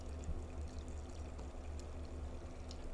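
Steady pouring water from The Witness video game, a continuous broadband wash with a low hum underneath, unbroken and fairly faint for the full three seconds.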